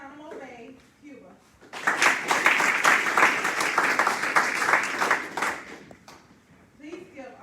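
An audience at a military pharmacy program graduation breaks into a loud round of applause lasting about four seconds, with someone speaking just before and after.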